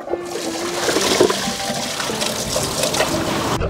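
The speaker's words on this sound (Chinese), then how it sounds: "要冲水啊！" A toilet flushing after cola was poured into the bowl, a loud rushing gush of water swirling and draining steadily, close up and uninterrupted.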